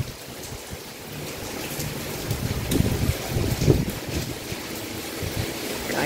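Strong storm wind gusts during a Chennai storm, a continuous low blustery roar buffeting the microphone, swelling and surging in waves with louder gusts toward the middle, no speech.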